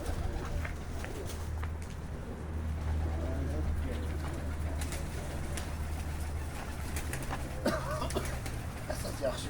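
Pigeons in a two-storey loft coo and rustle at a low level, with soft intermittent bird calls and wing flutters over a quiet background hum, faint and close.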